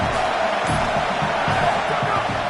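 A dense football stadium crowd roars steadily throughout, a loud, continuous wash of cheering and shouting with no single voice standing out.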